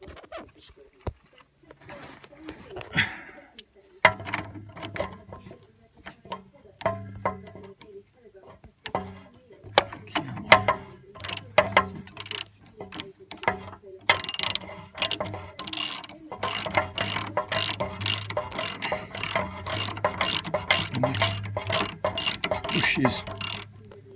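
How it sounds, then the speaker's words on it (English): Ratchet tightening a Land Rover Defender 90 rear shock absorber bolt, quick clicking pawl bursts that grow louder and more continuous, with a voice talking now and then between strokes. "do up the actual bolt itself"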